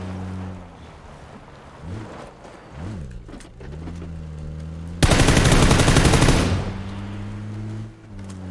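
Rapid automatic gunfire in the PUBG battle royale game on Erangel, a loud dense burst lasting over a second that cuts across a droning vehicle engine.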